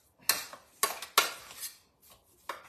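A tablespoon scrapes and clinks against a bowl while scooping thick raspberry-chocolate cookie dough, in several short, separate knocks and scrapes at close range with quiet gaps between them.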